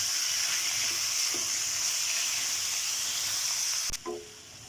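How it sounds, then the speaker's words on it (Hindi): Chicken pieces frying in a pan give a steady, loud sizzle, then water poured in brings a sharp hiss and bubbling before the sizzle drops off abruptly near the end. "जब इसकी सारी बोटियाँ वाइट हो जाएंगी तो फिर इसमें हम थोड़ा सा पानी ऐड करेंगे।"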